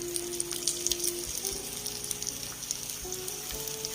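Chicken patties for butter chicken patties fry in hot oil over a medium flame, giving a steady, close crackling sizzle with scattered pops and no talking.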